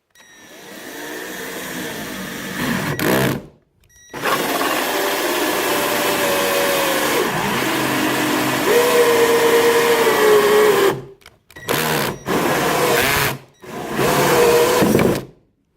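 A power drill whines steadily in long bursts, pitch dipping as it bites into material, with brief pauses between runs, drilling out an oblong hole for a flush mount rod holder.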